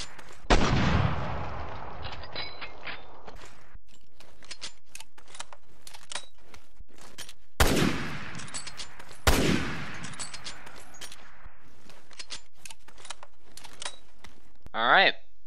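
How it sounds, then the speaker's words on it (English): The Muramasa sniper rifle in Resident Evil Revelations 2 fires a few widely spaced, sharp shots, each with a long decaying boom, separated by quiet stretches with faint mechanical clicks. "Now for the last sniper rifle, the legendary Muramasa."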